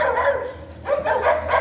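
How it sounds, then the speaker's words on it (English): Several dogs bark in short loud bursts close by, a few sharp yaps and whimpery barks in quick succession with a brief pause between volleys. "I'm gonna let them hurt their throats. And get a sore throat from barking."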